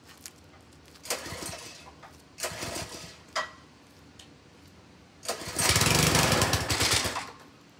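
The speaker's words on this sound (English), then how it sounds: "Power washer seems to be making noise." A power washer engine used on carpet in a driveway sputters in short bursts and fails to keep running, with rough chugging and hissing spurts, then one longer, louder roaring run before it cuts out again.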